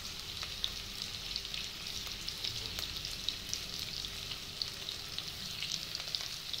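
Onions and green chillies frying in oil with mustard seeds and cumin, a faint, steady sizzle with small pops and crackles scattered throughout.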